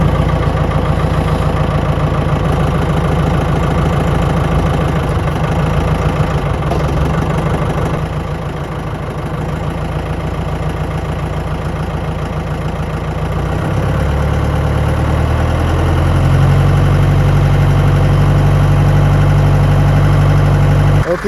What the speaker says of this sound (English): tedder works good